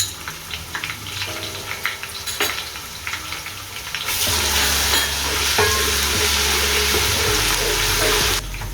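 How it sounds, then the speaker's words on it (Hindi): Ginger-garlic paste sizzles in hot oil with browned onions for a kadhi pakora, soft stirring and crackling at first, then a sudden loud burst of frying that stays strong to the end. "अब हमने इसमें ये 2 चम्मच अदरक और लहसुन का पेस्ट डाल देना और इसको भी हल्का सा ब्राउन कर लेंगे।"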